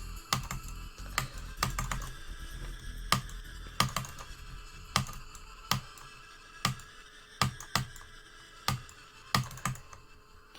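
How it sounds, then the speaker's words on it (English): A computer keyboard clicks in rhythmic bursts of sharp keystrokes, close and dry, during a Geometry Dash live stream. Louder taps recur about every half second over faint softer clicking. "ASMR clicking."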